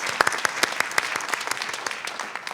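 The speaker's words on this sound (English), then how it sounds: "Let's give Fernando and Colgan High School another round of applause" Audience at a school board meeting applauds with sparse, distinct claps spread through the room, fairly light and steady, with no talk over it.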